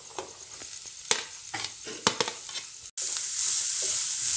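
Carrot and cabbage filling for vegetable kachori sautéing in a pan, with a steady close sizzle, several sharp stirring scrapes, and a louder, brighter hiss after a brief pause near the end.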